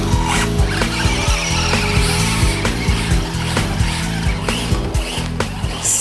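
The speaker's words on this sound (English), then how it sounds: "This is a hobby class car capable of speeds of up to 30 miles per hour." A hobby-class car capable of up to 30 mph drives hard with screeching tyre squeal and skidding, its motor buzzing loudly and steadily throughout with repeated sharp bursts of rubber noise.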